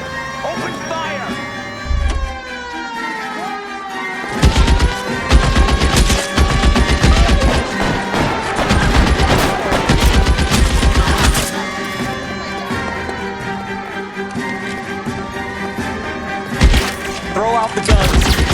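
Heavy gunfire in L.A. Noire, with machine-gun bursts and single shots rattling loud and close for long stretches, mixed with thuds and in-game voices.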